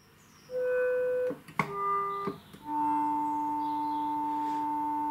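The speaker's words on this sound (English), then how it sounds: "Hopefully you can hear the kind of distortion that's on the note there." A KORG Polysix analog synthesizer plays sustained notes with an unwanted ringing distortion, several tones changing pitch before one long held note rings out alone.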